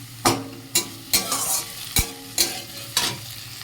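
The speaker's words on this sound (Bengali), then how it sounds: "মশলাটা দিয়ে ভালো করে তরকারিটা কষে নেব" Potato curry with spices frying in a pan while a spoon stirs it, giving sharp scraping strokes about every half second over a steady close sizzle.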